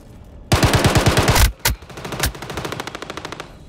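Rapid automatic gunfire from a video game firefight, close and loud: a fast rattling burst, a brief gap and a heavy shot, then another steady stream of rounds.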